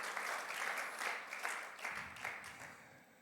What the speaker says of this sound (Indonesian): sambut dengan semangat, tepuk tangan bagi Tuhan Yesus